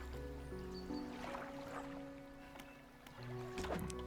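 A fishing boat engine in the video game Dredge gives a low, steady hum with water sloshing around the hull, quiet and continuous and getting a little louder near the end.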